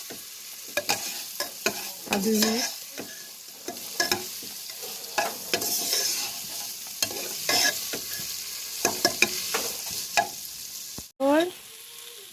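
Onions sizzle in a pan for a jackfruit curry as a utensil stirs and scrapes in frequent close bursts, and a voice briefly speaks near the end.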